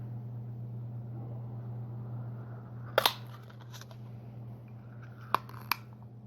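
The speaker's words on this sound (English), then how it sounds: "I'm going to use the word window punch to cut out our friend from the Blushing Bride" A word window punch cuts a shape out of card stock for a handmade card. A few sharp, close clicks and crunches stand out over a steady low hum, with one pair near the start and two more later.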